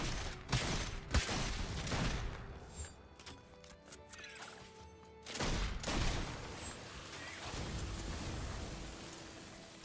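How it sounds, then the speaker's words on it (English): Blunderbuss shots fire in the video game Orcs Must Die! Deathtrap: several loud, sharp blasts in quick bursts over a noisy, crackling battle background. "Primary blunderbuss."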